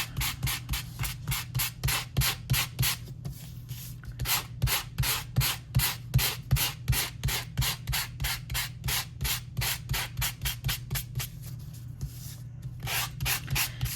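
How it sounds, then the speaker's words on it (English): Sandpaper being rubbed back and forth to create texture in a paper-craft stamping project, a long fast series of rhythmic close scratchy strokes over a low steady hum, with no talk. "So we're going to do the same thing with our sandpaper."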